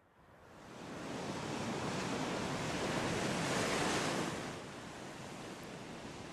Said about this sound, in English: the sea is eroding the footpath and the road to the airport at North Scale